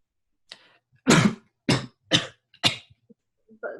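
A series of short, sharp explosive bursts, four loud ones in a row after a faint breathy start, close to the listener, like a fit of sneezes.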